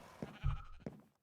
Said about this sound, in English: You can actually see the sheep down here